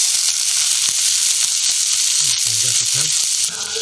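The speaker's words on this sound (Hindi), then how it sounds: "हम ऐड करते हैं सरसों का तेल। तेल हो गया गरम।" Hot mustard oil sizzles and fries loudly in a kadhai over a village stove while dry prawn masala is cooked, a dense continuous crackle with a few stirring knocks, heard up close.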